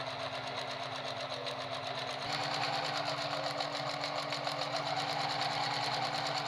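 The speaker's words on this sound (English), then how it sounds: "I'm going to pin the bias tape onto all the layers at once and sew them together" A sewing machine stitches bias tape onto several layers of fabric, running steadily with a fast, even mechanical hum that speeds up slightly partway through and continues alone without pause.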